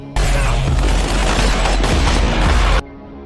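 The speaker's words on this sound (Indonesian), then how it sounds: "ada penjahat yang melepaskan tembakan dari atas mengenai Martin" Gunfire in an action film shootout in a warehouse, a loud dense burst of rapid shots and booms lasting a few seconds, then cutting off abruptly to near quiet.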